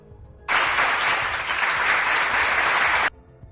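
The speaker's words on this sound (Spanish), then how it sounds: "déjame darle un aplauso contrarrevolucionario a Osmani" Audience applause bursts in suddenly, a dense steady wash of clapping lasting a few seconds before cutting off abruptly, loud against a quiet background.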